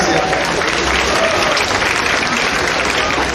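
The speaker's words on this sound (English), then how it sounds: "Et il faut applaudir aussi." A crowd applauds a completed castell human tower in Canada, dense, continuous clapping from many hands that stays loud and steady throughout.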